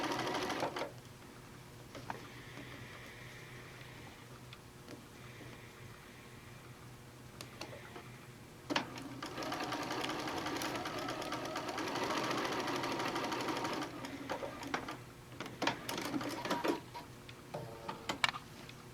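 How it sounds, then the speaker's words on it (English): A sewing machine stitches a quarter-inch seam through fabric for a Japanese knot bag, its steady mechanical whir running in bursts with brief pauses, close and moderately loud, with no talking. "sew a 1/4 inch seam"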